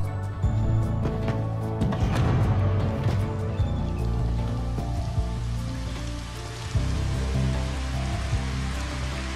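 Steady rain weather effect in the Final Fantasy XV Platinum Demo game, an even wash of falling rain throughout, with tonal game music layered over it.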